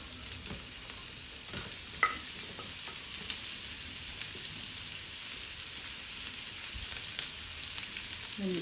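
Carrots and onions fry in a pan with a continuous, even sizzle, joined now and then by faint stirring scrapes, close and steady throughout.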